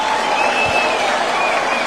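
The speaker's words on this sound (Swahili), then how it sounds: "Hebu tumpongeze rais kwa makofi tafadhali." A crowd at a State House gathering of village elders applauds the Kenyan president: dense, loud, steady clapping that fills the whole stretch without a break.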